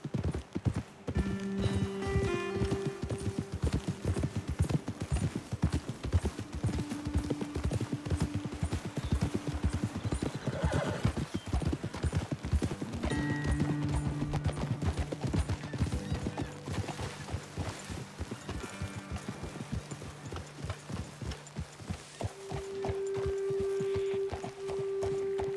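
Horses trotting in the video game Red Dead Redemption 2, with steady, close clip-clop hoofbeats running throughout and held musical tones and game ambience underneath.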